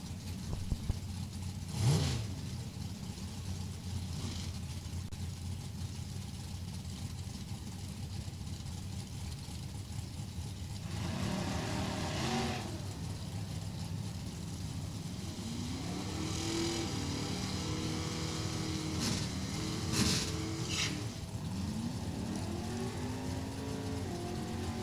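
At a JEGS Sportsnationals drag race, a 514-cubic-inch Ford and a 532-cubic-inch Chevrolet Cavalier rev and launch, engine pitches sweeping upward in several runs, heard at moderate distance over a steady track rumble.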